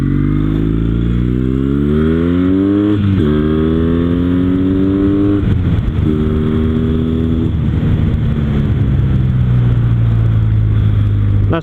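A Kawasaki W800 cafe racer motorcycle with a 100 kg rider, accelerating hard up a hill, its engine note rising through the gears in loud, close, continuous sweeps with brief dips at each shift and heavy wind rumble.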